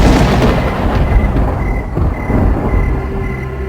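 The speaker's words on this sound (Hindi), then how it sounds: "बाहर बिजली कड़कती है" Deep, loud rumbling thunder rolls continuously through the whole stretch, with a heavy low-frequency roar and no talk.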